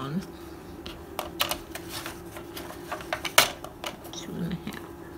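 Scissors snipping paper to make two pockets for a holiday recipe junk journal, a few short crisp cuts and rustles close by, spaced irregularly, with a voice talking over them.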